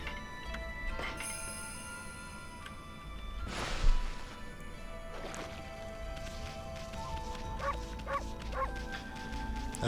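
A wolf in the video game Okami barks a few times over a backdrop of game music with sustained tones and chimes, the barks short and fairly clear against the soundtrack.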